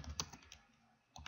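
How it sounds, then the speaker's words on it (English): Keys clatter as a short email message is typed on a computer keyboard, a quick burst of close, fairly loud taps, then a pause and a few more keystrokes. "And then I'm going to type her a quick message."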